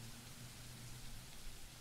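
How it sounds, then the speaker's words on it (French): Heavy rain in the off-road truck game MudRunner, a faint, constant broadband hiss with a low steady hum underneath, no voices. "Voilà, ça drache, hein."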